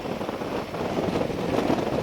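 Steady wind buffeting a microphone outdoors during a motorcycle ride on a fair day, a continuous low broadband rush with gentle swells and no voices.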